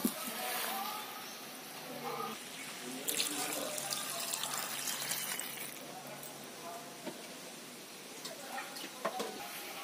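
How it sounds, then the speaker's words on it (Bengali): Water poured from a tap or jug into a pot of browned chicken do pyaza, a steady splashing rush close by, with faint speech underneath. "এবার এতে পরিমাণ মতো জল দিয়ে দেব"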